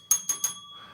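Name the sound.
bell sound effect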